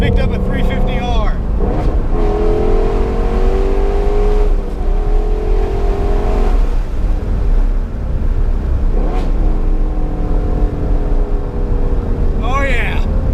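A 2017 Ford Mustang Shelby GT350R engine revs and rumbles steadily close by, rising and falling in pitch through several throttle blips, with someone talking over it.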